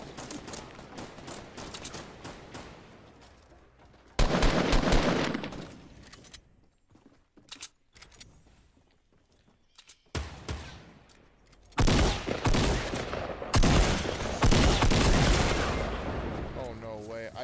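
Bursts of gunfire in the Fortnite video game, sharp rapid volleys in loud clusters separated by quieter stretches, with a player talking intermittently over the shots.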